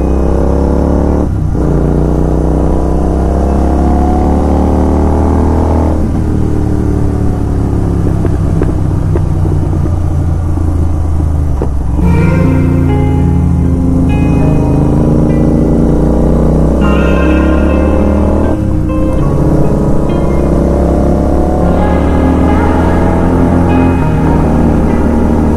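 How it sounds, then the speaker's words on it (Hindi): Modified exhausts on a KTM Duke 250 and Royal Enfield GT650 motorcycle, revving hard in repeated bursts with deep rumbling throttle blips and sharp popping backfires, loud and close, no voices. "थोड़ा सा साउंड का मजा लो गाइस। अब इसकी बाइक में पावर भी बहुत अच्छी है, साउंड भी बहुत अच्छा है, और ये पटाखे भी बहुत अच्छे मारती है।"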